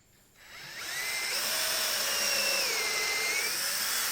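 Power drill boring into hardwood on a workbench, the motor spinning up from quiet and then holding a steady, close whine with slight pitch shifts as the bit bites into the wood.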